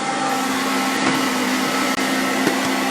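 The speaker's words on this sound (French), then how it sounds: "C'est le ventilateur du White Cooking." Cooling fan of a White Cooking kitchen machine blowing to cool its motor, a steady close whir with a faint constant hum and no talk.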